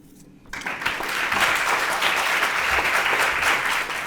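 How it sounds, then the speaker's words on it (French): A school eloquence contest audience bursts into loud applause after a brief quiet moment, sustained, dense clapping filling the hall. "Un tonnerre d'applaudissements pour ces deux candidats"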